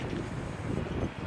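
Steady outdoor wind buffeting the microphone, a continuous low rumbling roar with no voices during the moment, dense and fairly constant throughout.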